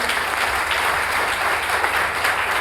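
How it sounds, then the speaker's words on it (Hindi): Steady audience applause fills a large hall at a mega show in Lucknow, dense and even throughout with no voices over it. "मैं चाहूंगा जोरदार तालियां होनी चाहिए।"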